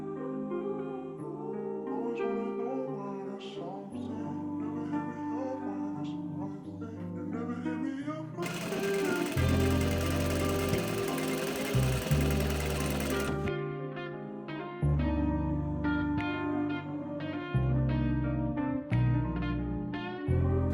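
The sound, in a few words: sewing machine stitching hoodie lining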